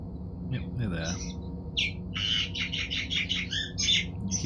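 Birds chirp and tweet in bright, quick bursts from nearby. A cluster of calls runs steadily through a few seconds over a soft low background hum.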